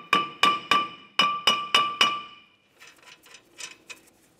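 A hammer strikes a stuck front brake rotor on a 2006-2011 Honda Civic, six sharp metallic taps in quick succession with ringing decay, followed by fainter clinks and rattles.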